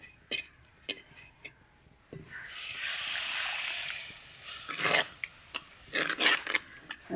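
Water poured into a pan of fish curry masala with chili and coriander powder sets off a loud hissing sizzle that swells for a few seconds, then settles. A voice talks intermittently around it.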